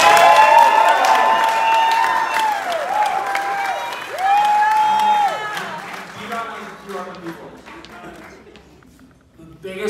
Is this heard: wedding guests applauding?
yes